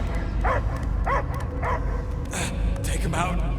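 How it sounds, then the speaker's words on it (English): A dog in the video game Guardians of the Galaxy gives a few short, whimpering barks and yips amid game sound, and voices speak over it. "I hear only barking."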